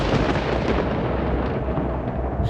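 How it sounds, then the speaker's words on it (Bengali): A thunderclap sound effect in a spooken ghost story, a loud, dense, rumbling burst of low roar that fills the whole short stretch without fading, heard alone with no voices. "বাইরে এক বিকট শব্দে বাজ পড়ল"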